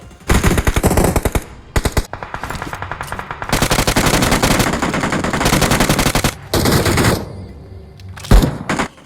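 Rapid automatic gunfire from a BGMI mobile battle, played on an iPhone 15, comes in loud, close bursts of fast repeated shots with short pauses between them and a few single heavy thumps near the end; no talking.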